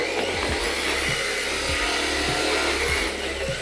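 A stock RMX 2.0 RC drift car runs on the smooth tile floor of an indoor lobby, its electric motor giving a steady high whine with small rhythmic fluctuations throughout.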